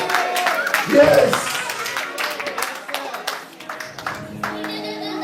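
Church congregation clapping and applauding during a French-language worship service, a steady rhythmic clatter of many hands mixed under a speaking voice and crowd noise.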